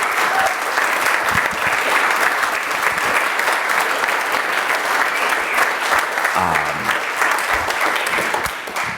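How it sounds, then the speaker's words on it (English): An audience at a talk on transformation gives sustained applause for Mikki Morrissette, loud, dense clapping that fills the whole stretch and tapers slightly at the end. "can we just give Mikki Morrissette a round of applause?"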